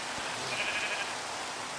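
A sheep in the Minecraft modpack SevTech Ages gives a single short, thin bleat over a steady noisy background.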